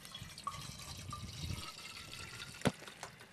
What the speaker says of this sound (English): I'm going to add my water to my Klean Kanteen.